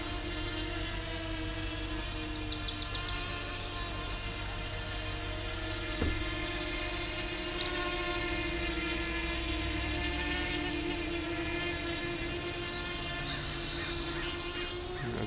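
Whining hum of an AOSENMA CG033 GPS drone's motors hovering after takeoff, a steady high-pitched buzz with layered tones, moderately distant and fairly quiet, with no talking.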